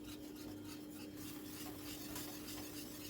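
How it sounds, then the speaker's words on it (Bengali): Spice paste being stirred and fried in a pan over a high gas flame, a steady scraping, rasping texture of spatula against the pan, continuous and close with a constant low hum beneath and no talking. "গ্যাসের ফ্লেমটা হাই করে মশলাটাকে ভালো করে কষিয়ে নিচ্ছি"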